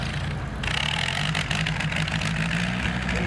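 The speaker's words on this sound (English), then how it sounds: "the modified antique tractors are getting ready to pull" A modified antique Minneapolis Moline pulling tractor idles at a tractor pull, a steady low engine rumble close by with a constant drone and no break.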